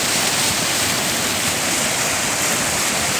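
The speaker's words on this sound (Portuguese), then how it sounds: "Tem a roda d'água. Jogando água para um lugar que não tem água." Water wheel splashing and pouring water near waterfalls, heard as a steady, loud, continuous rush of churning water with no voices.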